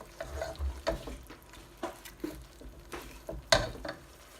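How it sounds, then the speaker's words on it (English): Pasta bake ingredients being stirred in an oiled pan, soft scraping and clacking of a utensil in irregular strokes, quiet and close, with one sharper knock near the end. "you want to give it a good mix"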